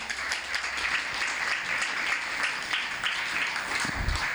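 Audience applause welcoming poet Krishna Dave at a school event, sustained crowd clapping heard at moderate level throughout, with a low thump near the end.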